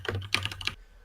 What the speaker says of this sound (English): he's typing, so just wait.